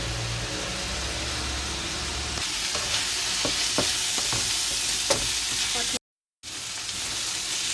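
Fish frying in a pan gives a continuous sizzling hiss, with a few light utensil clicks and taps over it and a brief moment of silence near the end.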